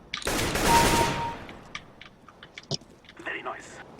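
A burst of rapid gunfire from a first-person shooter game opens loud and close, then fades into scattered clicks and small sounds.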